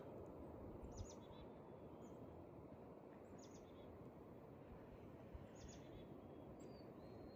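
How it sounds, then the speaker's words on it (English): Faint, distant birds chirp outdoors in short high tweets, repeating every second or two over a steady low background rumble, with no voices. "Just listen to the peaceful"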